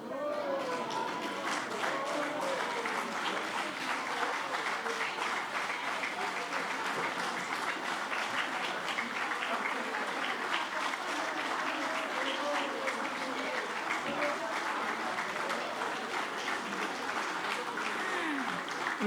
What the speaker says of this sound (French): j'aimerais que toutes les femmes de cette salle se lèvent et que les hommes les applaudissent